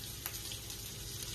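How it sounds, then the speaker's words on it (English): Meatballs sizzle in a frying pan, a steady close hiss of frying fat with a soft clink near the start and no voices. "you hear them, they start to sizzle straight away"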